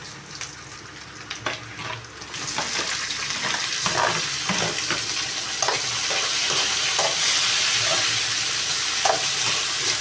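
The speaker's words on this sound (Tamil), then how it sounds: "இதையே நல்லா வதக்கி வச்சிடலாம்" Onions and tomatoes sautéing in oil in a pan as rasam is prepared, the sizzle rising to a steady dense hiss with stirring scrapes and clinks over it, no speech.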